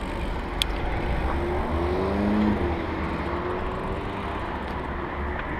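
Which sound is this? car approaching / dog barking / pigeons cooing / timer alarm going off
car approaching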